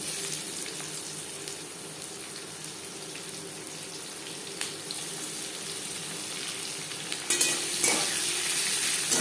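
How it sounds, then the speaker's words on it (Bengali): Onion pieces, a bay leaf and panch phoron fry in hot oil for a cabbage curry, giving a steady close sizzle with light stirring scrapes and a brief louder burst of crackling near the end. "পাঁচ ফোড়ন ভেজে নেওয়ার পর দিয়ে দেব পেঁয়াজ কুচি"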